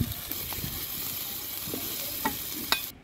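Giant freshwater prawns fry in a pan with a soft continuous sizzle, broken by a few light scrapes and clicks as they are stirred, close and fairly quiet.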